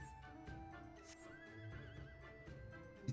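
A horse in the online game Final Fantasy XIV whinnies loudly across the clip while hooves clip-clop beneath it, with game music underneath and no talking.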